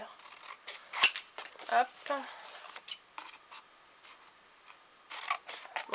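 Scissors snip roughly at the corners of a covering for a handmade desk kit, a series of close, sharp metallic cuts in irregular clusters, with a brief spoken word in between.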